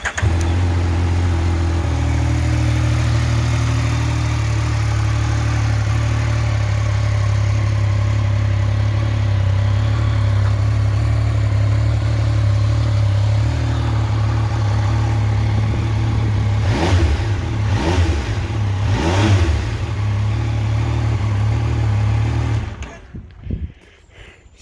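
A Yamaha Niken three-wheeled motorcycle with its CP3 three-cylinder engine, already warmed up, idles smoothly and steadily up close. Near the end come a few quick throttle blips before the engine cuts off.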